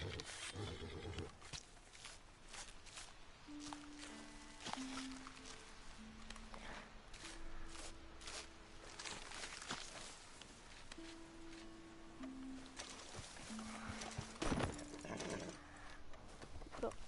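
A horse in the Red Dead Redemption video game, with hoof clip-clops and whinnying in a game soundscape that has a low musical drone and occasional short tones, holding a steady level throughout.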